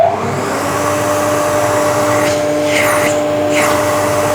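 A ducted dust extraction vacuum on a router table roars steadily and loudly throughout, with a brief rushing surge of suction toward the end as timber passes near the inlet.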